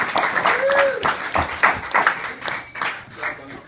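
Brief audience clapping at a comedy night as the host returns to the stage, scattered claps mixed with crowd noise and overlapping talk and whoops.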